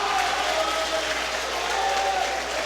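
A church congregation applauding during a sermon, a dense, even wash of clapping from many hands that stays loud and steady throughout, with a crowd murmur beneath.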